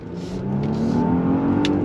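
A 2022 Genesis G80 luxury sport sedan accelerating hard on throttle, heard from inside as a rising engine drone and whir building over a couple of seconds, close and fairly loud with no talk.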